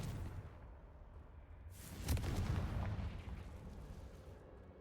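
A Confringo fire spell in Hogwarts Legacy bursts into a single sudden, loud, broad explosion after a quiet rumbling lead-in, then decays into a lingering roar.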